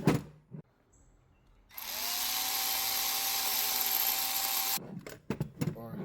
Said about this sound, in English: Do you have an electric ratchet, such as this Milwaukee, that when you press the trigger, you can hear it spinning